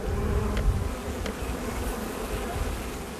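Honeybees at an apiary hum in a dense, continuous buzz around their hives, fairly loud and close, with a couple of brief sharper ticks early on.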